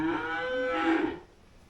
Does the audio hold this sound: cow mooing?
yes